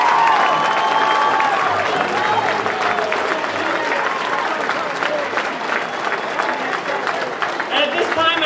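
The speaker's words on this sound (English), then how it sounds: "Please give them a round of applause." An audience at a November victory speech breaks into sustained applause, dense steady clapping throughout with crowd noise and voices underneath.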